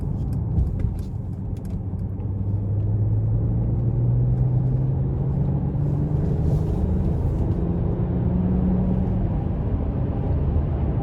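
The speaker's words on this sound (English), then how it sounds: "And very swift acceleration without having to put your foot down. It really uses that turbo when it can." A 2022 Mercedes-Benz S500 4Matic with a turbocharged engine pulls away under light throttle, a smooth low drone whose pitch climbs steadily through the gear, with road rumble underneath and no voices.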